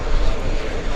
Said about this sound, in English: Taking off like a rocket.